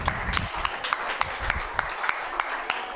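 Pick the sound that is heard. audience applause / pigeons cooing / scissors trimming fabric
audience applause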